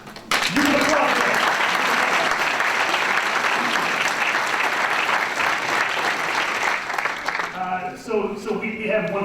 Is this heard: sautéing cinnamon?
no